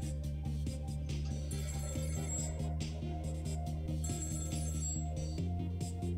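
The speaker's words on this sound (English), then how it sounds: "The phone rang." A telephone rings in the Ghost Trick video game, with repeated electronic bell-like trills in short bursts over a low, steady musical background, fairly quiet and alone.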